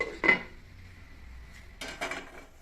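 A metal lid is set onto a pot of mackerel curry: one clank, a quiet gap, then a couple of rattling clatters as it settles, close and moderately loud with no voices.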